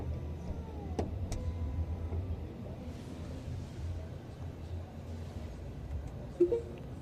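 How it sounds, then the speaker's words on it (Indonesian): The power tailgate of a GAC Aion UT car closes with a faint, steady electric motor hum that ends in a soft latch click near the end, heard quietly and close by. "Close the tailgate for you."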